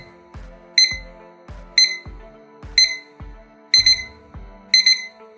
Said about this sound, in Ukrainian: Ось так звучить будильник.